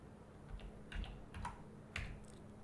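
Quiet clicks of typing on a computer keyboard, a handful of separate keystrokes spaced unevenly over a faint background hum.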